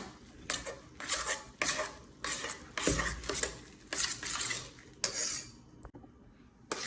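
A spoon scrapes and clinks repeatedly against a bowl while a lasagna cheese mixture with eggs is stirred, a close, rhythmic series of strokes with brief pauses and no talking.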